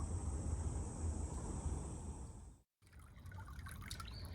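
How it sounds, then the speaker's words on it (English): A small side spring trickles water into a drainage on a Hill Country nature trail, a soft, steady wash of flowing water heard close up, with a brief silent break partway through. "there is actually a little side spring over there that's still trickling in"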